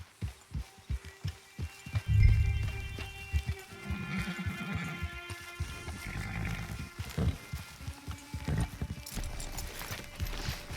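Horse hooves clip-clop in Red Dead Online, an uneven run of close hoof strikes over a soft, tonal game backdrop.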